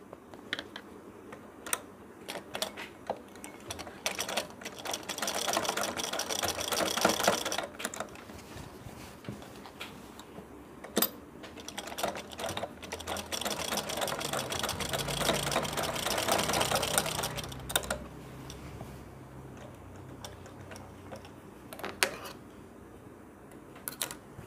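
A sewing machine runs lock stitches in two long bursts of rapid, even mechanical clatter, separated by brief pauses with light clicks, at moderate loudness and close by.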